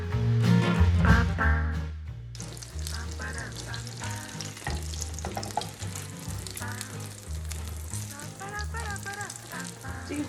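Korean buchimgae pancakes frying in a pan, a steady close sizzle with faint crackle running throughout under a background of music.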